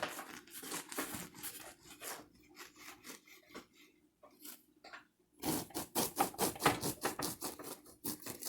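A knife saws through a loaf of homemade bread-machine bread in quick rasping strokes. The strokes slow and thin out in the middle, then return as a faster, louder run of close cuts.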